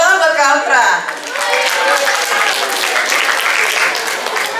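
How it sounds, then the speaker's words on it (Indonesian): An audience claps for Kak Altra, a loud dense burst of applause that swells, dips briefly, then carries on steadily to the end with voices mixed in. "Tepuk tangan buat Kak Altra."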